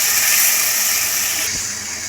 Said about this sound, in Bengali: এটা এইভাবে ভালো করে কষানো হচ্ছে।